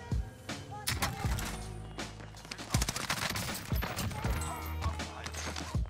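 Gunfire in the Warzone video game: rapid bursts of shots close by mixed with scattered distant reports and clattering effects, dense and continuous, with faint speech underneath.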